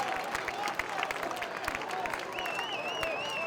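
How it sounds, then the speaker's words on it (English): Crowd clapping in the stands at a high school football game between Colerain and La Salle, faint and distant, scattered claps under an ongoing broadcast voice with a whistle-like tone drifting through. "You should hear the clapping there in the background."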